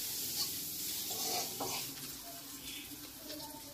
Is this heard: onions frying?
yes